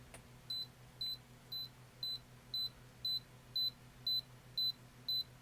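A Canon T50 film camera's self-timer gives a steady series of eleven short, evenly spaced electronic beeps, close and clear over a faint low hum.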